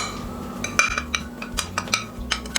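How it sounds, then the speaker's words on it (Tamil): A spoon or spatula works an Oreo cookie mixture into cream cheese filling in a bowl, giving close clinks and scrapes against the dish in an irregular series of taps over a low background hum. "இப்போ இதையும் சேர்த்து நல்லா மிக்ஸ் பண்ணுங்கள்."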